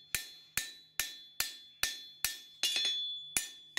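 An 800 gram hammer strikes a forged knife blade lightly, nine bright ringing taps in an even rhythm, a couple landing as quick doubled hits, each fading into a metallic ring. No voices.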